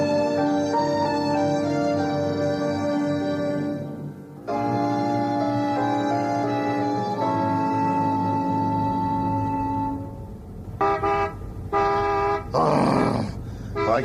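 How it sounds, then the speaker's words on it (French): A car horn sounds repeatedly in long, loud sustained blasts with short breaks, followed by choppier honks as voices join near the end. "Oh, mais klaxonne pas tout le temps comme ça, c'est énervant."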